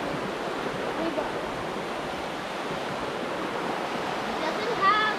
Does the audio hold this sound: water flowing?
yes